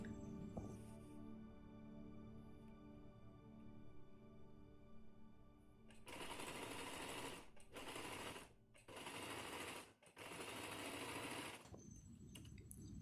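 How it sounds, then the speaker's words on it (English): A sewing machine stitches the shoulder seam of a kurta made from an old saree, running loud and close in several steady bursts separated by brief pauses, after a quieter stretch of room tone. "then you have to put the stitch"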